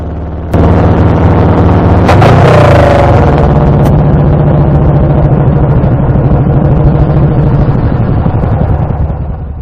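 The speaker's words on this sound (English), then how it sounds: "That was the sound of the primary chain snapping." The primary chain on a Moto Guzzi motorcycle snaps while the rider changes down near a traffic island: a sudden loud bang and metallic clatter over the running engine, then the engine keeps droning on loudly.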